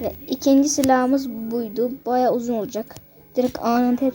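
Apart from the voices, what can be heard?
No distinct noise like a dog, phone or traffic.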